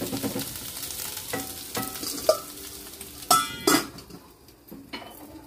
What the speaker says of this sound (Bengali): আজকে মধুবন্তীকে শেখানো হচ্ছে আলু গোলমরিচ